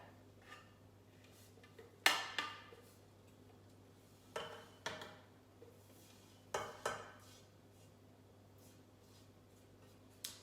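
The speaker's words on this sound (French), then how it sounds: "je remets ma poudre dans le bol" Nougatine powder is tipped back into a Thermomix bowl with a few sharp, quiet clinks and scrapes of utensil against bowl, spaced irregularly over a faint steady hum.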